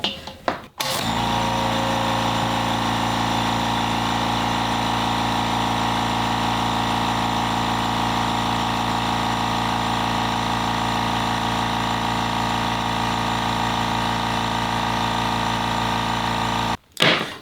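A Harbor Freight 2-gallon air compressor runs steadily and loudly at close range, its motor drone and pump hum holding constant after a brief start-up and cutting off abruptly near the end.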